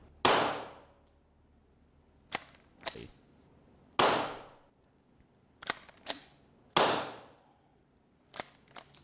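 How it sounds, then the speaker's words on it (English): A suppressed semi-automatic pistol with a modified barrel and slide fires three loud, sharp shots about every 2.3 seconds, each one followed by two or three quicker metallic clacks of the action and ringing brass. The shots are close, and there is no talk. "now we're just shooting the gun a million times"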